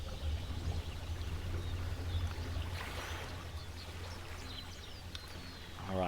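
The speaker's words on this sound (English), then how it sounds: "you can hear the tweeting of the birds, the sound of the water and the river lapping and moving" Jungle river water flowing and lapping steadily throughout, with faint birds tweeting now and then above the continuous wash.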